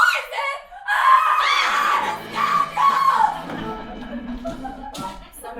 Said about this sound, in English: Somebody had to stop her screaming.